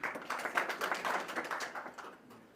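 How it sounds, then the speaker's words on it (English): A crowd applauds Kenyan counties ranked in a survey of county performance: steady, dense clapping from an audience, moderately faint and continuous without a break, with no voices on top. "We can clap for them"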